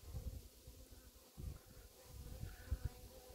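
Honeybees hum in a low, continuous buzz inside a nucleus hive, close and fairly quiet, with the swarm drone swelling and fading slightly.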